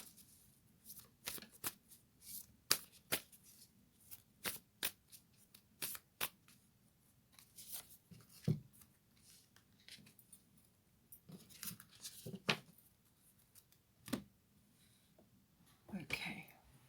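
Oracle cards, a goddess deck and a moonology deck, shuffled and handled up close in a quiet room, giving soft riffling bursts and crisp flicks scattered irregularly over a hushed background, with faint breathy sounds between.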